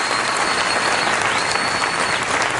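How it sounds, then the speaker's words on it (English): Studio audience at a televised political debate giving the candidates a final round of applause, a loud, continuous wash of clapping with no voices over it. "let's have one final round of applause for the candidates"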